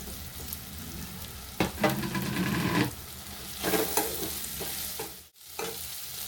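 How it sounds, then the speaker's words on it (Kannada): Chili powder fries in oil with bitter gourd, a soft sizzle with bursts of stirring scrapes and a brief pause near the end, heard close with no talk. "ಈಗ ಇದಕ್ಕೇನೆ ಎಣ್ಣೆಲೇನೆ ಖಾರದ ಪುಡಿ ಹಾಕೊಂಡು ಫ್ರೈ ಮಾಡ್ಕೊತಾ ಇದ್ದೀನಿ"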